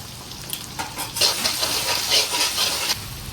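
Chicken pieces fry in hot oil as a spoonful of ginger garlic paste goes in, giving a steady close sizzle with scraping stirs and bursts of louder crackling, with no voices.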